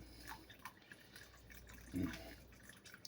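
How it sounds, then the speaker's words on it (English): Water slowly poured onto coffee grounds for cold brew, a faint, soft trickle with scattered drips and one brief fuller splash, all close and quiet with no talking. "You just pour the water directly on top of the grounds"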